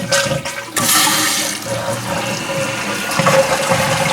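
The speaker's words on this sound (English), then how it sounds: "this is how you flush the toilet" A toilet with a Fluidmaster tank kit flushes loudly up close, a sudden rushing gush of water draining from the bowl that settles into a steady swirling refill.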